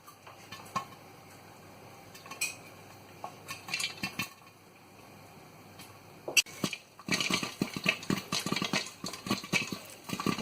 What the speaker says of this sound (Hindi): देखिए माशाल्लाह मेरे सारे पफ हो रहे हैं।